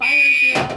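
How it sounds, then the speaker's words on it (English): A fire alarm sounds during an appointment as a loud, steady high-pitched electronic tone, then breaks into a harsher burst at the end. "the fire alarm was going off"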